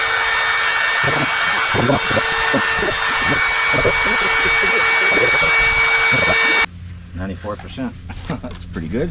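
Loud electric air pump whirs steadily while inflating an air mattress at a campground, then cuts off abruptly near the end, leaving people talking over quieter background.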